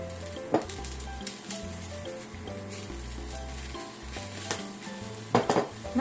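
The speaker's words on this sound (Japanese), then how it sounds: "春キャベツを簡単に炒めてみましょう。" Spring cabbage stir-fried in a pan: clattering pan and utensil knocks with soft sizzling underneath, several sharper clanks near the end, no talking.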